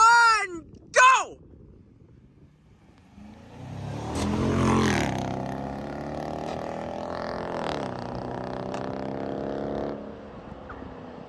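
Dodge Durango R/T Tow N Go and Mercedes-AMG GLE 43 SUVs race from a standing start. A brief voice comes first, then loud engines roar and climb in pitch through several gear changes for about six seconds before easing off.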